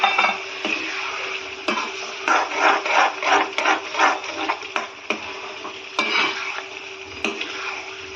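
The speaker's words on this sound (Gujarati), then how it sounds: "જે આપણે ફ્રાય કર્યા હતા અગાઉ તેલમાં ઈ અને પનીર હવે આને મિક્સ કરી લેશું" Fried paneer and cashews being stirred into a Punjabi-style curry in a pan, giving a steady soft sizzle with repeated scraping and clinking strokes of a spoon against the pan.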